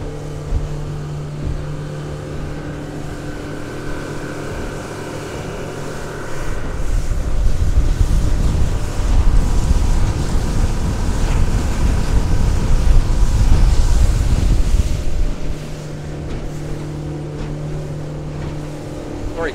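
A Yellowfin 5800 boat with a folding hard top runs at 4200 RPM around 42 km/h, its outboard drone steady beneath loud rushing water and wind that swell through the middle and then ease off.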